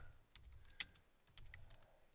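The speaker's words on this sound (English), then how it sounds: "typing." Typing on a computer keyboard while composing text, a handful of crisp, irregular key clicks in short bursts, close and fairly quiet, with no talking.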